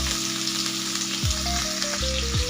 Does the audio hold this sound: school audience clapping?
no